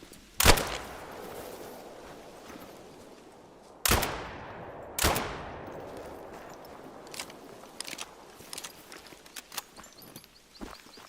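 Rifle shots from a .257 hunting rifle in a hunting video game: three loud, sharp reports with decaying echo tails, two of them close together, followed by faint scattered clicks and small knocks.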